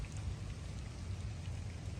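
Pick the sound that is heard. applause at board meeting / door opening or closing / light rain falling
light rain falling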